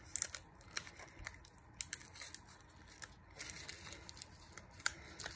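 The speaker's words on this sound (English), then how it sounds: "I'm just going to keep taping on the rest of what I have cut out over here." Paper strips being cut and taped onto a handmade craft, with soft close crinkling, snips and tape tearing in irregular bursts, quiet and near, with no talking.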